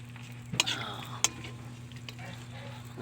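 Malunggay leaves being stirred in a cooking pot over a soft sizzle, with two sharp scraping knocks of a utensil against the pot and lighter shuffling after, quiet and close.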